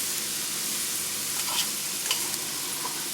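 Boiled potatoes frying in ghee, a quiet steady sizzle close by with a few faint stirring scrapes and clinks, no voices.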